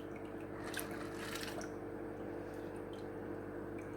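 Water fills a plastic bag meant for shrimp, giving soft squishing, sloshing and dripping noises with a couple of brief crinkles, close but quiet over a low steady hum.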